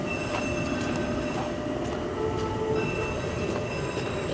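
Trains rumble through a station with three platforms, a steady loud roar of rolling wagons with thin high wheel squeals and faint clicks, no voices heard.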